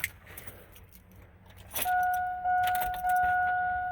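Keys jangle briefly up close, followed by a steady electronic vehicle chime ringing under a low vehicle hum with the ignition at accessory or on.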